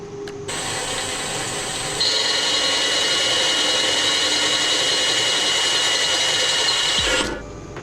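A power drill whirs steadily for several seconds, rising in pitch partway through as it bites into wood, then winds down and stops.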